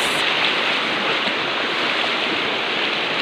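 Water from a small farmland waterfall pours in a dense, unbroken roar, steady and close throughout with no voices.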